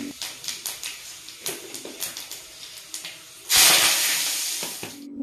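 Vegetables such as papaya, green banana, drumstick, bitter gourd and eggplant frying in oil with five-spice and bay leaf: a string of sharp crackles and pops, then a loud sustained sizzle close by.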